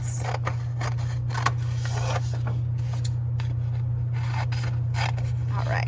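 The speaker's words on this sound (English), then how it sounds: "So let me go ahead and cut on my lines." Scissors snip paper along drawn lines for a Santa collage craft, a run of quick, close cuts and rustles over a steady low electrical hum.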